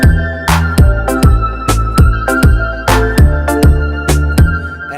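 A full dancehall and afrobeats beat plays loud and alone, with punchy kicks and snappy percussion hits in a steady syncopated groove under sustained synth chords and a bright lead.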